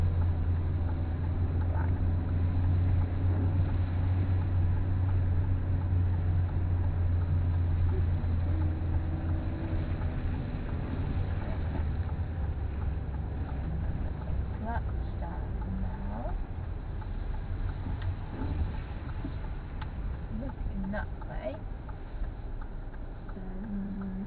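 A car engine runs steadily through a driving lesson, a constant low drone with slight shifts in pitch as gears are changed, while an instructor and learner talk over it.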